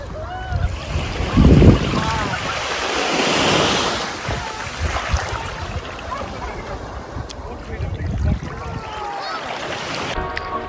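Ocean waves wash onto the clean sand of the Atlantis Reef beach in the Bahamas, a continuous close surf rush with gusts of wind buffeting the microphone and a stronger splash near the start.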